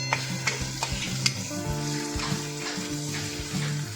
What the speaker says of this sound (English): Stir everything together quickly for 30 seconds.